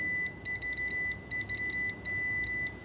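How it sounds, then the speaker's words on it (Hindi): A multimeter set to continuity beeps in short, loud, high-pitched buzzer bursts while probing a phone battery connector line that is fully shorted, the bursts repeating unevenly and close by with no talk. "ये देखिए यहाँ पे बजर साउंड"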